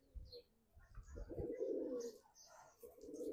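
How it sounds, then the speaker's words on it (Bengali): Low, throaty cooing of racing pigeons rolls on in repeated bursts, fairly close and steady, with a few faint chirps in the background. "এই যে আলহামদুলিল্লাহ আরেকটা কবুতর ফিরে আসছে 3টা কবুতর ভিতরে।"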